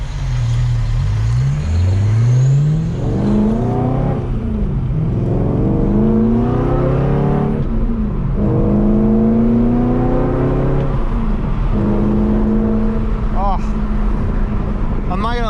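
A BMW E92 M3 V8 revs repeatedly during a drive on a winding road, its engine note rising and falling in smooth, sweeping pulls that stay loud and continuous throughout.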